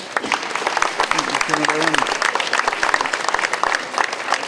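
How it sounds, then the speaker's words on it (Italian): Crowd applause at the inauguration of a statue in Agrigento, a dense, loud, steady clapping for the mayor, with voices briefly audible amid it. "Facciamo un applauso al sindaco."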